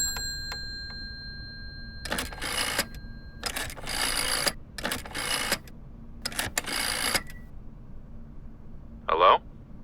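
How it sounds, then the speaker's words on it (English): An old telephone in the horror game Layers of Fear is handled, with a series of dry mechanical clicks and rattling bursts like dialing, a short ring-like tone near the end, close and moderately loud. "Might as well make some good use of the phone while I'm here."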